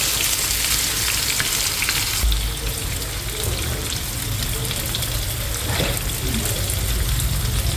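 Vegetable stalks fry in a pan with a dense, loud, continuous sizzle, while running water and kitchen clatter sound in the background.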